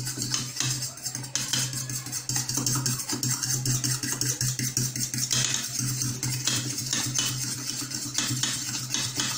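A utensil scrapes and clinks repeatedly against a pan while chili sauce is mixed in for a zinger burger sauce, producing busy, fairly loud rhythmic stirring with a faint sizzle underneath and no speech.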